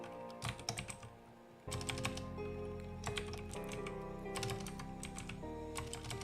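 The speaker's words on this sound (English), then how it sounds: "Freaking keyboard not working." Rapid bursts of typing on a computer keyboard, with clusters of quick key clicks and pauses between them over a steady background hum, close and moderately loud.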